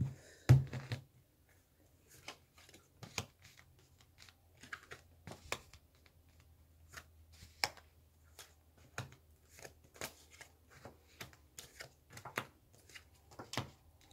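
Oracle cards being shuffled at close range, a steady run of soft, crisp riffles and taps with brief sharp flicks spread across the whole stretch, quiet and alone with no talk over them.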